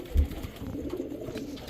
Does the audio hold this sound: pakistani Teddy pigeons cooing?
yes